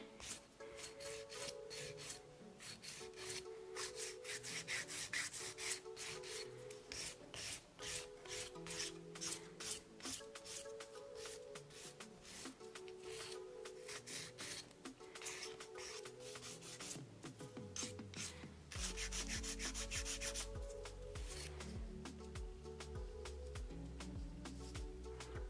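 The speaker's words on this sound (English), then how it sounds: "Try not to accidentally file your pointy tip." A nail file rasps rhythmically across long nails, rapid repeated scraping strokes close to the microphone, continuous and fairly loud, shifting in tone near the end.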